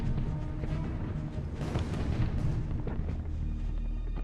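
Explosions and artillery fire in a war documentary about D-Day to Berlin, a dense, continuous rumble of booms and blasts with heavy low-end roar, loud and sustained throughout, with no voices.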